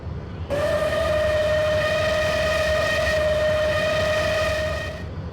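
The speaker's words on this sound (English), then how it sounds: "he heard a familiar whistle" A train whistle sounds one long, steady, loud blast for several seconds over a low rumble, then cuts off.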